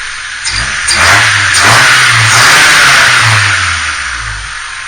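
A 1998 Honda Civic DX engine fitted with a ram intake revs up close by, rising and holding a strong mid-pitched drone before easing back, with no talking.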